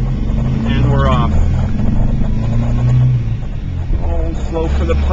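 A 1972 MG MGB GT with a full synchro gearbox pulling away, its engine droning and rising through the gears with wind noise, while someone talks over it inside the car.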